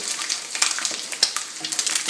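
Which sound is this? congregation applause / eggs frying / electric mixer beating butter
eggs frying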